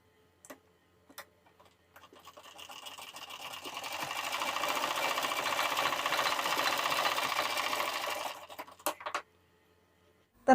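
A sewing machine runs a steady press stitch along a blouse strip, a whirring rattle lasting several seconds that rises and then stops abruptly, with a few soft clicks before and after.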